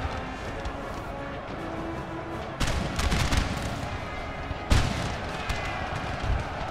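Cannon fire in the video game Napoleon: Total War, with two sharp loud booms about two seconds apart over a constant battle din of musketry and distant shots, and someone talking.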